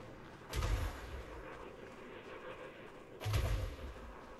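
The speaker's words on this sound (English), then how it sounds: "I think they're shooting my ship." Gunfire aimed at a ship in Elite Dangerous Odyssey: two heavy, booming shots about three seconds apart, each with a deep rumbling tail, over a steady low ambient background and no talking.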